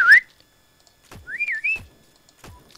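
Whistling in the shooter Heroes and Generals: a brief rising whistle, then a longer wavering two-part whistle, separated by soft thumps in an otherwise quiet scene.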